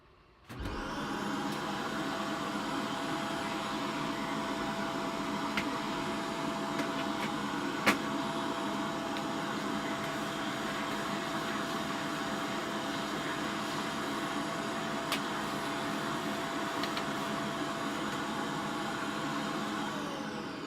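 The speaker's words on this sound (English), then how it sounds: "Now you guys know why I've been vacuuming off camera." A vacuum cleaner works on a PC front panel, drawing a steady close whine after a brief start-up, with a few faint clicks and rattles as the nozzle moves.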